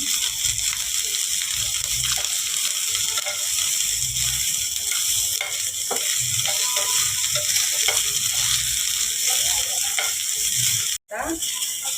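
Ginger and garlic fry in a pan for Beed-style fried chicken, a loud, continuous sizzle with stirring scrapes and sloshes, cut off abruptly for a moment near the end.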